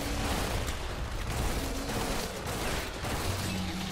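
Rifle fire in Primal Carnage Extinction, a dense steady barrage of overlapping shots that sound somewhat distant and muffled, continuing without a break.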